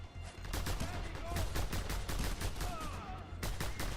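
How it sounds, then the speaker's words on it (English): A mounted machine gun firing in Just Cause 2, a rapid, loud, sustained burst of evenly spaced shots over a low rumbling background, with a voice briefly in the mix. "That mounted gun! It's tearing us to shreds!"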